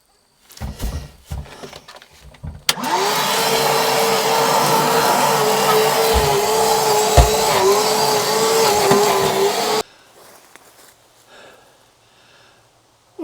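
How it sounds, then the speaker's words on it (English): A small handheld vacuum cleans the carpet in a deer camp cabin with a loud, steady whine that runs for about seven seconds and then cuts off, after some brief knocking and handling noises. "take a couple of minutes with a little handheld vac"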